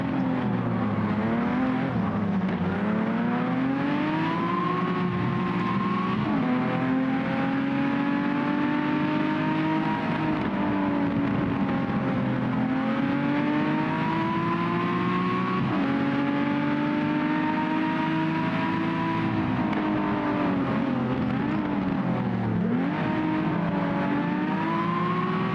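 A BMW CSL race car engine in the racing game GT Legends, a loud, continuous engine drone that rises and falls through gear changes and revs for the whole stretch, heard alone with no talking.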